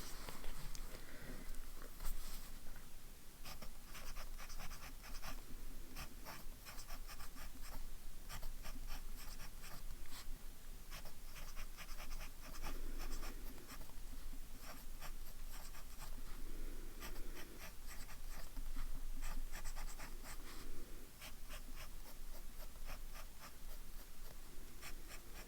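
A Lamy AL-Star fountain pen in lilac with a medium nib scratches across paper in steady, close, continuous strokes, with soft rubbing and pauses between words, no voices.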